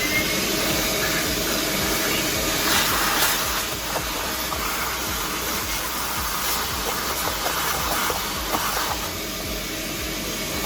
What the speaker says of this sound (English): hit it with the shop vac one more time